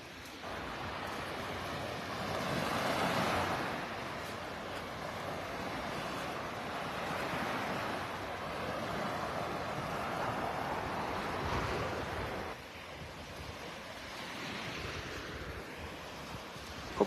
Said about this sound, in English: Hopefully the wind noise isn't too bad. It's just a very, very light breeze blowing right now.